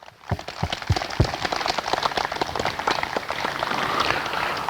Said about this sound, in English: Please join me in a round of applause and appreciation